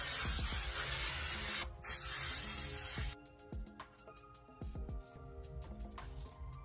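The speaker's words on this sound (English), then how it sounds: "So lastly, I'm gonna set my hair off with some hairspray." Tresemme Extra Firm Control hairspray is sprayed onto hair in a long hissing burst, a short pause, then a second burst, followed by softer rustling and light handling clicks.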